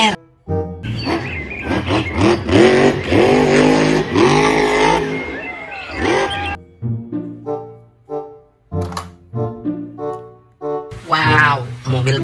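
A toy monster truck roars with loud, revving engine bursts and skidding tones that rise and fall, followed by shorter choppy revs, with a voice speaking in between.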